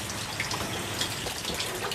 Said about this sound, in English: I'm going to rinse my hand.